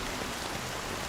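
Rain in the video game Honkai: Star Rail falls as a soft, steady, even hiss of drops, faint and continuous with no other sounds.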